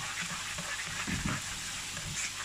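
Parmesan being stirred with a splash of pasta cooking water for carbonara, a soft steady wet scraping close by with a few low thumps of the spoon against the bowl.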